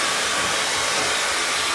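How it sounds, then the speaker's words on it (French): A hair dryer with several heat settings blows steadily and loudly while drying hair, a constant close-up broadband rush with no pauses. "Il est vraiment trop beau ce sèche-cheveux, j'aime de trop."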